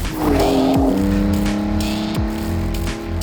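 A 750 brake horsepower off-road Porsche driving hard, its engine revving and climbing through gears with sharp pitch shifts and tyre noise, loud and close with no talking.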